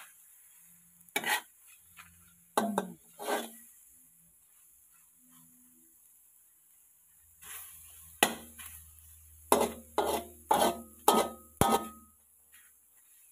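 Thai kaeng om curry with egg is stirred in a pot over high heat: a series of scraping, clattering utensil strokes against the pot in uneven bursts, over a faint low burner hum.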